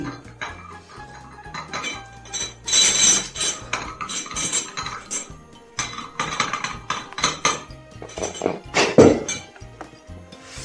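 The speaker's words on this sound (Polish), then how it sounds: "nalej mi trochę herbatki" Cups, dishes and cutlery clink and clatter in a series of close, sharp knocks with a few louder crashes of crockery, and no tea pouring is evident.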